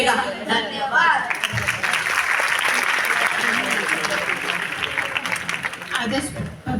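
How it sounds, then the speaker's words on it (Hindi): Loud, sustained applause from an audience honoring students at a school award festival, dense clapping filling the hall after a spoken announcement, with a voice talking near the start and end. "जोरदार तालियां इनके लिए"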